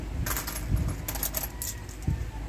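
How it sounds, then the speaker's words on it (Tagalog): Saved coins, kept from change, being handled and counted, producing scattered metallic clinks and jingles in small bursts, close but fairly quiet, with soft handling noise between. "Ito yung mga barya na iniipon-ipon ko guys sa bawat mga 20 na mga sukli-sukli sa akin."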